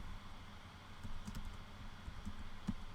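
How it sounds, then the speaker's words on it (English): Hebrew being typed on a Mac computer keyboard, soft irregular key clicks at a quiet level with low room hum, no talking. "and then I can just start typing"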